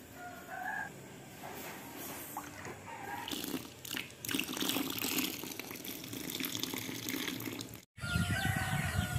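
Free-range chickens in a semi-open farm coop cluck and crow while being fed a mash with ginger, banana and chopped moringa leaves, amid running water and rustling, moderately distant, with a brief break near the end.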